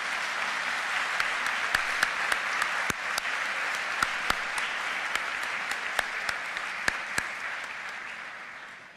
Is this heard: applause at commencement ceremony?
yes